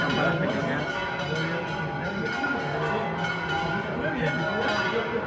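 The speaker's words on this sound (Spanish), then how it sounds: "ya se empieza a ir una masiva de campanas pequeñas" A dense wash of many small church bells ringing together at noon in Valencia, continuous and fairly loud, with voices mixed in.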